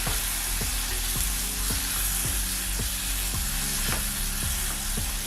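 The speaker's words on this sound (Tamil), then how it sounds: "கேரட், கொடமிளகாய் இதை சேர்த்து நல்லா மிக்ஸ் பண்ணி விடுங்க" Carrot and capsicum are stir-fried with softened tomatoes in a pan: continuous loud sizzling broken by regular, rhythmic scrapes of a spoon mixing the vegetables, with no talking.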